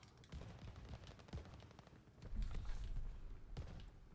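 Rapid bursts of gunfire crackle from behind in a Call of Duty: Vanguard match, with dense automatic shots and heavier thumps growing louder midway.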